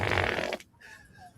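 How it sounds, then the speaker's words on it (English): A loud, buzzy fart rumbles close up for about half a second, then stops abruptly and is followed by quieter sounds. "When I hear that, it makes me fart."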